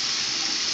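Steady gushing stream of water pouring from a leaking, broken sink faucet, a continuous loud hiss with no pauses or talk.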